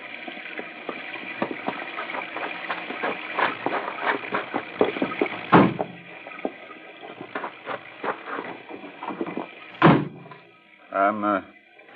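Car doors are opened and shut, with two distinct solid thuds standing out over a constant whooshing background, and faint voices in the scene.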